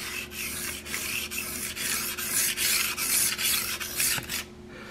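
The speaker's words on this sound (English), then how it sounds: "Now I'm using an 800 grit plate." A Palmer Extreme Cut 160 broadhead blade strokes back and forth on an 800 grit diamond plate, producing rhythmic close gritty rasping passes, about a dozen in quick succession, with no talk.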